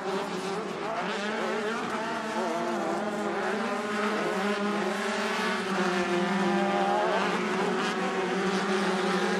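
Race cars on a dirt track whine and roar around the turns with rising and falling engine pitch, a dense continuous wash of several motors at moderate distance.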